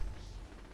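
Gunfire in Saints Row 3, a short dense burst of low booming shots that fills the brief moment and tails off slightly, with no talking.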